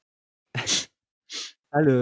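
A person gives a short, sharp sneeze close to the microphone, followed by a brief breathy burst, then a voice begins speaking right after.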